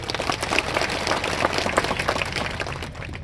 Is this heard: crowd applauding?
yes